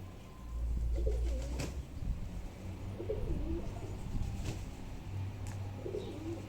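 Pigeons coo softly in a low, repeated rhythm over a steady background hum, with a few faint chirps; no one speaks.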